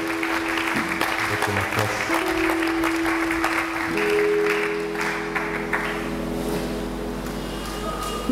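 A church congregation applauds during a sermon, a dense burst of clapping under sustained musical tones from instruments, fading slightly over several seconds.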